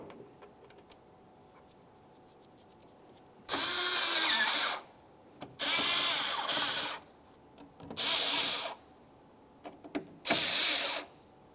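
A power tool drives the AC condenser mounting bolts on a 2011-2018 Volkswagen Jetta in four separate loud bursts of about a second each, with quiet gaps between.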